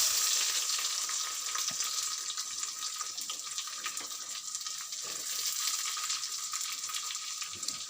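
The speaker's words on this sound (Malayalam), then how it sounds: "നമ്മൾ ആ ചിക്കൻ വറുത്ത എണ്ണയിൽ തന്നെയാണ് ഉള്ളിയൊക്കെ വഴറ്റുന്നതും കറി വയ്ക്കുന്നതും." Onions sautéing in oil left over from frying chicken, giving a steady bright sizzle with occasional stirring scrapes, close and continuous without speech.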